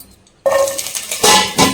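Wet garlic spluttering in hot oil during Indian vegetarian cooking, a sudden loud sizzling burst after a quiet start, followed by crackling pops and renewed surges of hiss close to the pan.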